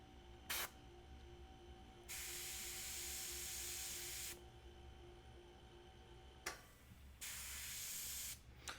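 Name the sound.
airbrush with busted nozzle spraying paint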